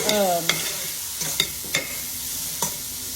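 Minced garlic fries in a pan for homemade spaghetti sauce, a steady soft sizzle close by, broken by a few sharp clicks of a utensil against the pan.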